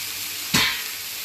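Chapli kebabs made from chicken mince hit a hot pan with a sudden loud sizzle that flares up and then settles to a steady hiss.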